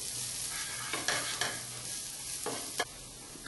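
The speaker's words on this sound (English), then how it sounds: "And saute again." Onion with turmeric and salt sautéing in a pan, a steady sizzle with a few scraping stirs of a spoon through the mixture, close and fairly quiet.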